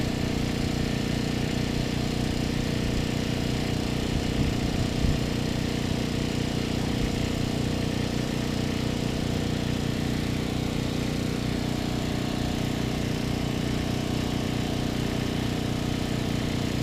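A Cobra Crusher gold ore crusher runs on a small engine, giving a steady, unbroken mechanical drone with a low throbbing hum. It sounds close, constant and moderately loud throughout.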